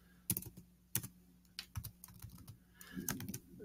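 Typing on a computer keyboard while coding in Vim, sharp separate key clicks in irregular bursts with short pauses between them, heard close and alone with no talking.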